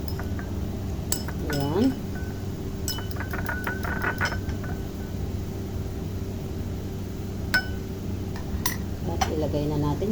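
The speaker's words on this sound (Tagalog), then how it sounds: "Mag-beat muna tayo ng egg. Egg na may milk." Egg and milk being whisked in a bowl give irregular light clinks of a utensil against the dish over a steady background hum, and a voice speaks briefly.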